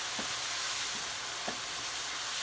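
Ground pork stir-frying in a hot pan for ants climbing a tree, a steady broad sizzle with a few soft scrapes as the meat is broken up, heard alone.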